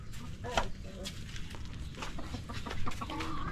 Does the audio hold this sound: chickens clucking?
yes